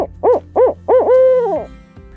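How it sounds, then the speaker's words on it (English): A barred owl hooting in Missouri woodland. Three clear rhythmic hoots are followed by a longer drawn-out descending hoot, close and loud against a quiet background. "one of our most common owls that we have in Missouri"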